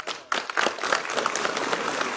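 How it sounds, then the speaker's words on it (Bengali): An audience at a scholarship award ceremony and freshers' welcome gives a round of clapping that rises abruptly and carries on as a dense, even patter of many hands, fairly close, with no talk over it. "আমরা একটি করতালি চাচ্ছি"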